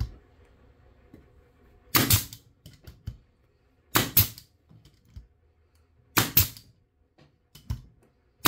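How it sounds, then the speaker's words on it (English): A Makita AF506 18-gauge pneumatic brad nailer, fed by an air compressor, fires three sharp, loud shots spaced about two seconds apart, each a crisp percussive snap with a short rattling tail, over a quiet room. "I've now got it hooked up with my 18 gauge Makita AF506 18 gauge nailer"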